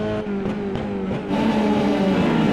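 Formula 3 race cars in the iRacing sim barrel downhill in a pack, high-pitched engine whine rising and swelling as a second car closes in, loud and continuous with no talk.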